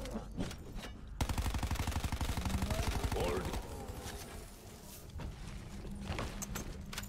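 Hip-fired gunfire in Black Ops 4 Zombies, a fast sustained automatic burst lasting a couple of seconds, loud and close, followed by scattered game sounds and clatter.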